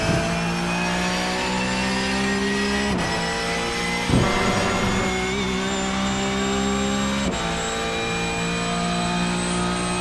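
A Porsche race car in iRacing holds full throttle at Monza, its engine a loud, steady, high-pitched whine with rising tones and a few sharp gear-shift dips, close and unbroken.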